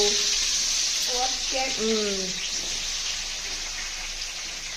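Chillies and tomatoes fry in a pan with a steady, bright sizzle throughout, loud and close, while a person speaks briefly over it partway through.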